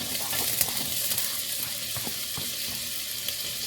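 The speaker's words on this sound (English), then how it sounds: "I'm going to go ahead and throw my onion in there as well." Chopped onion sizzling in hot unsalted butter in a pot, a steady close crackling hiss with faint stirring scrapes, no talking.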